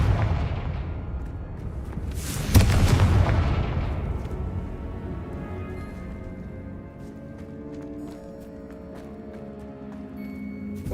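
The Confringo explosive spell cast in Hogwarts Legacy lands as a single loud boom with a sharp crack, followed by a long rumbling decay and fading debris tones.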